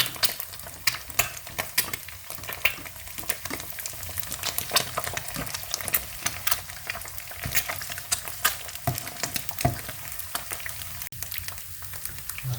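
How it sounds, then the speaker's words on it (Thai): An egg fries in a pan for a Thai basil stir-fry dish, a continuous close crackling sizzle with dense popping spatter holding steady throughout, no voices. "ทอดไข่ดาว"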